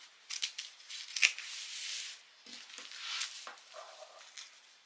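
Scissors snip through vintage linen fabric close by, a series of crisp rustling cuts with short pauses in between, quiet overall.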